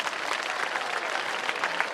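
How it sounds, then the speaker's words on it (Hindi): Students at a Navodaya school alumni meet clap for each other's teams in a steady, even burst of applause from a crowded room that lasts the whole moment. "अब दो ही टीमों के लिए एक दूसरे के लिए ताली बजाओ"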